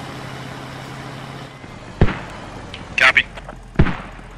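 Incoming mortar rounds in the video game Squad land as several sharp thudding blasts spaced about a second apart, over a low ambient rumble, after a brief spoken word.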